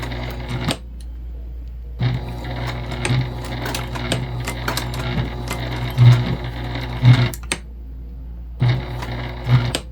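A Juki TL2010Q sewing machine stitching through leather, with bursts of rapid mechanical needle clatter and thumps separated by brief pauses, recorded close and loud.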